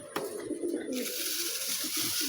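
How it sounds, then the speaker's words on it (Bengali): Pigeons on a rooftop give soft, low, rolling coos close by, a few overlapping calls over a steady background hiss. "এই আমার তাপি কবুতরগুলো"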